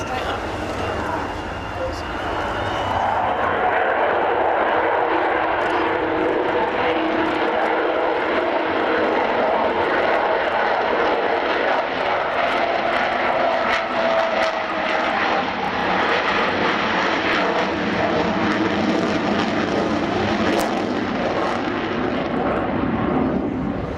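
Avro Vulcan XH558 jet bomber, on its farewell flight season, flying with a broad, sustained engine roar that holds steady at close range throughout, while a voice speaks over it.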